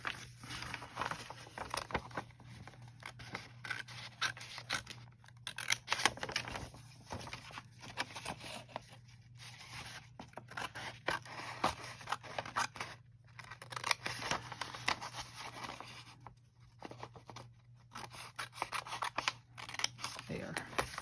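Scissors snip close up through the corners of junk mail paper, with repeated quiet cuts and paper rustling in a faint, intermittent rhythm.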